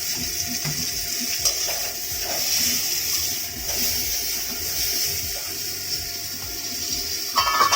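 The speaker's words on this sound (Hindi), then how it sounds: "गोभी को शैलो फ्राई करते समय थोड़ा सा नमक और थोड़ी हल्दी भी उसमें डाल देंगे।" Cauliflower shallow frying in oil in a pan with salt and turmeric, a steady bright sizzle and hiss throughout with faint stirring scrapes, close and continuous.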